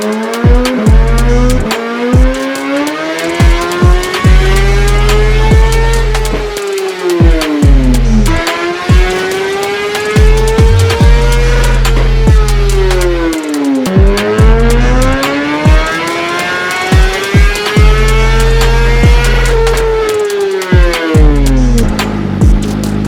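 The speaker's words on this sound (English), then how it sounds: "let's get this thing warmed up and get some baseline pulls" A 2018 Suzuki GSX-R1000R motorcycle is run on a dyno with a high-pitched four-cylinder engine that screams up through the gears in loud repeated pulls, rising in pitch, then drops back to idle between runs.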